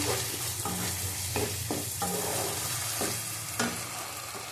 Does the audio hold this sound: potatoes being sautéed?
yes